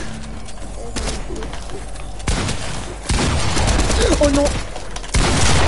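Gunfire in a shooting video game, with sharp bursts and rattling volleys arriving in several abrupt loud surges, while a player talks in French and other game sounds mix in.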